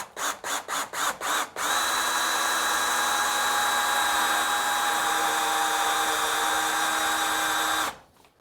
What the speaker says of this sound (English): I'm using a paddle bit today